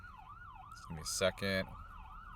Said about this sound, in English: we got an ambulance coming through here